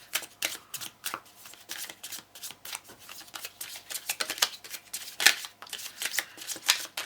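Oracle cards are shuffled by hand in quick, soft riffling bursts with brief pauses between them, close and quiet with no talking.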